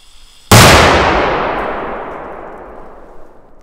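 A loud F4-category firecracker with 30 grams of composition detonates in one sharp blast after a brief quiet moment, its crack ringing out and decaying slowly over several seconds.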